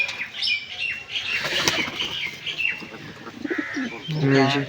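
Pigeons, including a female with clipped wings, flap their wings in fluttering bursts and coo softly nearby, with voices murmuring in the background.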